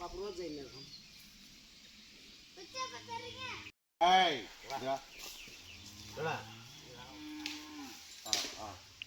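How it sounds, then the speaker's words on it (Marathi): Jallikattu bulls in Salem, Tamil Nadu, let out loud, drawn-out moos, some close and some further off, while children's voices and chatter carry around them. "सगळे जलकट्टीचे बैल आहेत"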